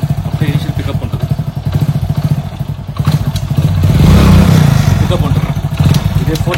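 A motorcycle rides along with a thumping, clattering engine that swells mid-way as it pulls through the gears, with voices talking over it.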